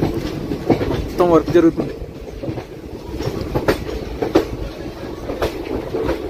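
A special passenger train rolls along the new Rajahmundry to Araku line with a continuous rumbling clatter of wheels on rails, while someone talks over the noise close by.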